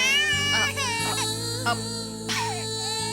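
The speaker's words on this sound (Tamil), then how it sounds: "ஏண்டி இப்படி குழந்தை அழுதுண்டே இருக்கா?" An infant cries in a Tamil television serial scene, with rising and falling wailing bursts over a steady background music bed.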